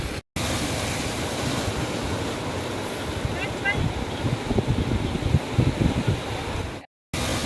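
Strong rushing river water at a Ladakh water crossing, a loud continuous churning roar with wind buffeting the microphone and brief dropouts.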